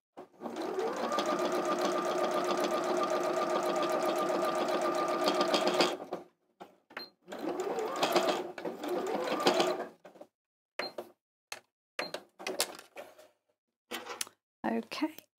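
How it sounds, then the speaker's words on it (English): A sewing machine top stitching through several layers of fabric for a retro backpack flap, running in a steady loud whirring burst for about six seconds, then in shorter stop-start runs with pauses between. "And then just top stitch that edge together."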